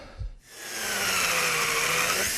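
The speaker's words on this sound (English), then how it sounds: "Usually I would use a very small, tiny drill bit." A tiny 1/16-inch drill bit bores through a piece of wood for scroll-saw work, starting with a short knock and then a steady, close whirring grind that holds evenly to the end, with no talking.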